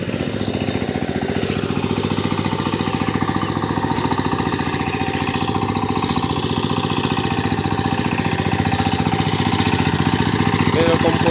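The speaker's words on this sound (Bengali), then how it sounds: "ইঞ্জিন নতুন ইঞ্জিন, তো ইঞ্জিনের সাউন্ডটা খুব সুন্দর" A new Changchai 20 hp diesel engine on a power tiller runs close by, a steady, even, rhythmic throb held at one speed throughout without a break.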